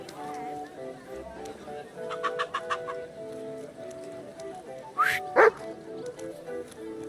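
A dog in the medieval video game Kingdom Come: Deliverance II gives a quick run of barks, then two sharp yelping cries, set against quiet ambient game sound.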